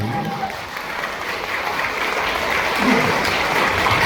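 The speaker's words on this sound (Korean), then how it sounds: "여러분 박수 한번 부탁드립니다." A seated crowd at a book launch concert claps warmly and continuously, dense applause that swells slightly toward the end with no voices on top.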